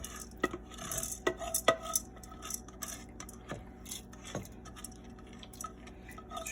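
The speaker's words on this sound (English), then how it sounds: "So I'm gonna add the rice." Washed rice, about three cups, poured into a pot for Caribbean-style rice, heard as scattered clinks and scrapes of utensils against the pot with soft grainy rustles, close and fairly quiet.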